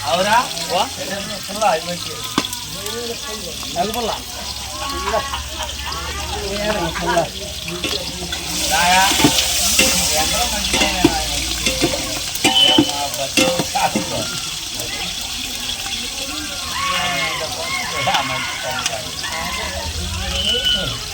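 Onions and green chillies frying in oil for a gongura boti curry, a steady loud sizzle with stirring scrapes throughout, a louder hiss surging partway through, and a person talking over the cooking.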